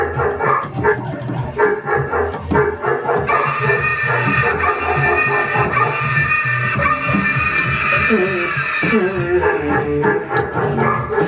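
Repeated dog barks and yips mixed with sneezes and a baby's crying, triggered as sound effects at an interactive museum music exhibit, sounding loud and busy in a steady, crowded layered stream with no pauses.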